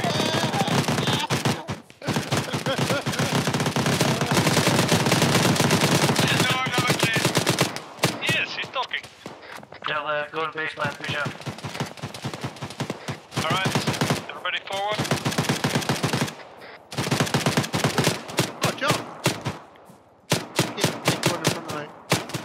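Loud, near-continuous automatic gunfire in the military shooter Arma 3 rattles on with brief pauses, and people talk faintly under the shooting.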